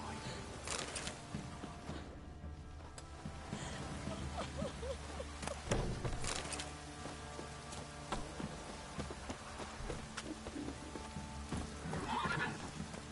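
A horse in the video game Witcher 3 gallops with continuous clip-clop hoofbeats and whinnies several times, set against steady background game ambience at moderate level.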